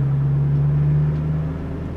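A small orange and yellow Peugeot with a wheezy, underpowered engine drives along. It gives a steady, loud droning hum close by, which eases slightly toward the end, with no talk.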